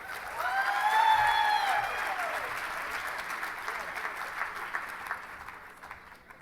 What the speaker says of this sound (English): That was not a big enough applause for the hard work of the board